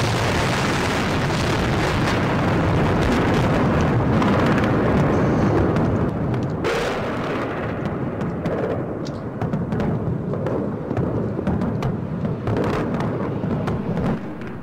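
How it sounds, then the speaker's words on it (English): Shock-and-awe bombing of Iraq: a loud, continuous roar of distant explosions and rumbling booms, with sharp bursts cutting through a heavy, sustained low rumble throughout. "Oh, another explosion."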